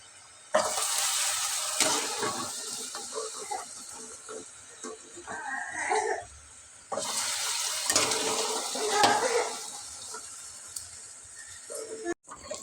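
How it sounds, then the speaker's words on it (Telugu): Fried madatha kaja, a folded sweet pastry, is dropped into sugar syrup and stirred, making two bursts of wet hissing and sizzling with sloshing and scraping in between. "పాకంలో వేసేసుకోండి డైరెక్ట్గా."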